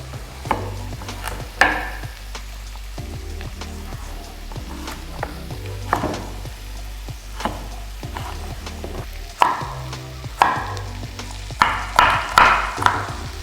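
Diced pumpkin fries in a pot for a spicy pumpkin soup, with scraping stir strokes and soft sizzling under intermittent spoon clatter, close and moderately loud, no talking.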